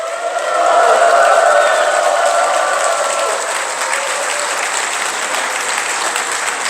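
A church congregation claps heartily in a hall during a ventriloquism show, dense applause swelling quickly to a loud peak, then easing slightly and continuing steadily without stopping.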